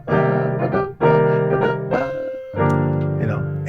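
A piano plays a short rhythmic motif over two measures, sustained chords struck in a clear counted pulse with brief gaps between phrases, close and alone with no voices.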